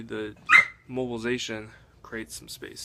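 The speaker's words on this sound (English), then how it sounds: "Sorry, that's my dog." A pet dog barking and yipping indoors in a home, with several sharp barks breaking through and overlapping a person who keeps talking.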